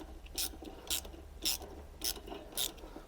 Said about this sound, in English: now screw it in